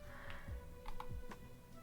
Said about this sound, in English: The tapping on your keyboard sounds so nice.